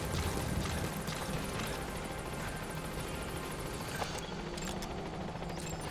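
A helicopter in Metal Gear Solid V arriving at a landing zone, its steady rotor thrum and engine wash continuous and fairly close, with faint blade chop and no talk.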